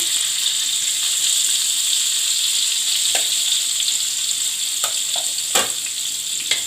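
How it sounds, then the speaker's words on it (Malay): Lemongrass and onion sautéing in a hot pan, a loud continuous hiss and sizzle with a few brief clicks of a utensil, no talking. "Tumis serai. Lepas tu saya masukkan bawang besar."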